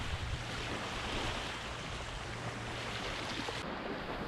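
Small waves lap steadily against a sandy Volga river island shore, a continuous broadband wash with wind rumble on the microphone, close and fairly loud, no voices.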